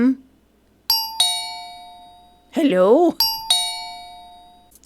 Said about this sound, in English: She looked anxious and kept ringing the doorbell